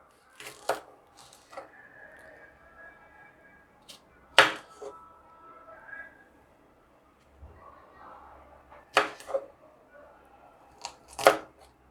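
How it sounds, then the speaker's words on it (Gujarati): A knife slices about ten washed green chillies into rounds on a board, giving sparse, sharp cuts spaced out over the clip, some louder than others, with quiet gaps between them. "હવે મરચાંને ગોળ સમારી લઈશું।"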